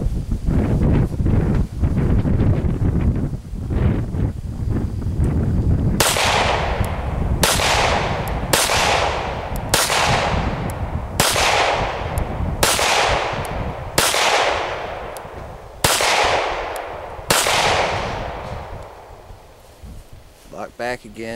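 Beretta Model 100 pistol, unfired for about 20 years, shooting 20-year-old ammunition outdoors: about nine sharp, loud shots at a measured pace of roughly one every one and a half seconds, with wind buffeting the microphone throughout.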